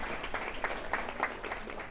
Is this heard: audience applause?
yes